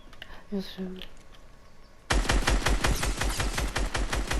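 Rapid automatic gunfire from a French-language shooter video game bursts in after a quiet stretch with soft voices, continuing loud and dense as a steady stream of close shots.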